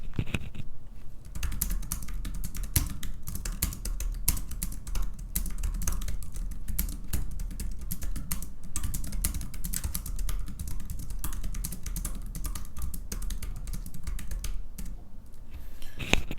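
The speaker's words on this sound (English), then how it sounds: "Now it's time for the sound test." Rapid, continuous typing on a thin, low-profile metal Rapoo 9300M keyboard, soft light clicks in a steady flurry, close and fairly quiet.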